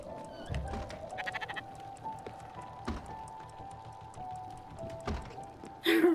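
Sheep bleating in the video game Spiritfarer, a quavering bleat near the start followed by clip-clop hooves, thunks and soft game chimes, ending on a brighter sound effect.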